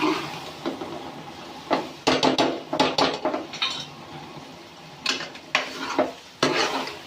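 Lentils for dal mash are stirred and mixed in a metal pot, giving repeated clattering spoon scrapes and knocks in irregular bursts over a quiet background.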